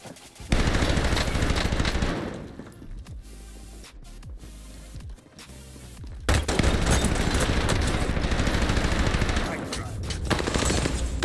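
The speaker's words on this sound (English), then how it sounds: "Maybe I shouldn't have been shooting my guy." Sustained automatic gunfire in the Call of Duty Warzone Pacific video game, Rebirth Resurgence quads, rattles loudly in dense bursts, drops briefly to scattered shots, then surges again into heavy continuous fire.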